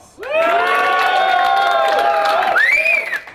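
Crowd at a rap battle event cheers and whoops loudly, a sustained roar of voices with rising shouts that swells and holds for about three seconds.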